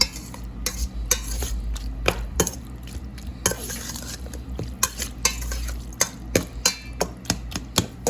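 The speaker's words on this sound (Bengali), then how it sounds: "এগুলারে আমি ভালো করে আবার চামচ দিয়ে সুন্দরভাবে মিক্স করলাম।" Spoon scraping and clinking through black plum salsa ingredients in a bowl, a steady run of sharp taps and rough stirring strokes under low background hum, close and moderately loud, no voices.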